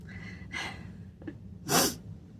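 A few short nasal sniffs, the last one sharper and louder, close to the microphone with quiet pauses in between.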